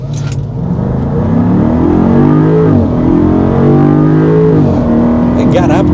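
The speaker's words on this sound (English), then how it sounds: "see if we can do like the 0 to 60 acceleration here" A 2024 Land Rover Defender V8 in sport dynamic mode pulls from a stop toward 60 mph, its engine loudly revving and rising through gear changes, close up, with a voice talking faintly over it.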